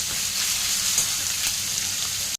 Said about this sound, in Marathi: हा उभा चिरलेला कांदा परतून घेणार आहोत चांगला कलर चेंज होईपर्यंत गोल्डन ब्राऊन होईपर्यंत